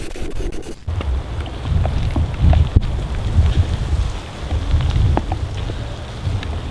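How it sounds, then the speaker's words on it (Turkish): Heavy outdoor rain pours down in a dense, constant wash with scattered louder drops and some gusty wind rumble on the microphone, with no voices. "Oo, yağmur hızlanmaya başladı çok."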